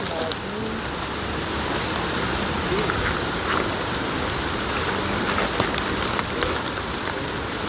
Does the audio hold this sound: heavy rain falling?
yes